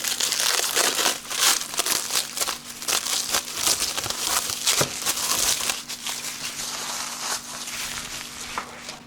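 Plastic packaging being unwrapped from a Bixpy Jet kayak motor, loud continuous crinkling and crumpling up close with irregular crackles and no talk.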